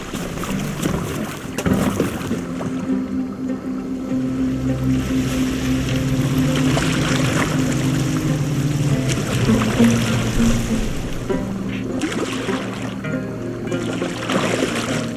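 A boat moves across open water in Assassin's Creed Valhalla, with a steady wash of waves, splashing and wind continuing throughout at moderate level, with no talk over it.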